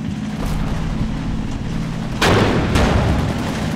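Tank cannon fire in the WWII tactics game Combat Mission, heard as two heavy booms close together in the second half, over a steady low rumble of battlefield ambience with no voices.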